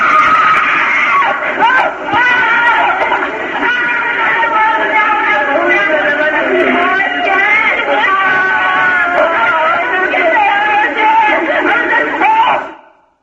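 A played recording of many people screaming and crying fills the space with a dense, loud, continuous chorus of wailing voices and shrieks that carries on without pause before cutting off abruptly.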